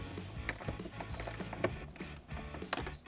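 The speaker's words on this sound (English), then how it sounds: "So using the 13mm Bronco ratchet and socket, go ahead" A 13mm ratchet and socket turning a door bolt on a Ford Bronco, a run of close, fine mechanical clicks over a low, busy background hum.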